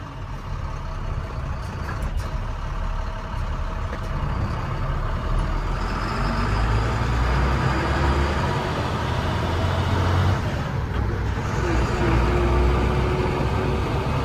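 An International 4300 digger derrick truck's heavy engine rumbles and labors steadily while driving, with a deep drone, gear changes and rattles close by.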